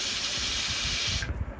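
A pressure cooker vents a loud, close, continuous hiss of steam, cooking a fish and taro dish, then cuts off abruptly near the end.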